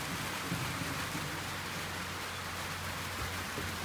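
Steady rain falls on a house in a continuous broadband hiss, fairly loud and even throughout, with no voices present.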